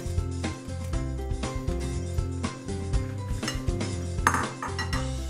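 Gnocchi go into a hot pan, with clattering and clinking of cookware and utensils scraping and knocking against the pan, a busy, continuous metallic jumble heard close up without talk.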